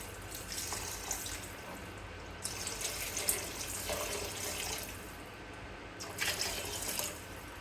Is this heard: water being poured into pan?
yes